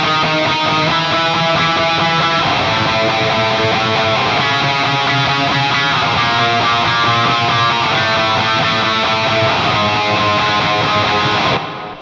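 An electric guitar tuned a half step down plays a simple repeating chord progression with a distorted, full tone, strummed steadily and loud throughout with no talking over it.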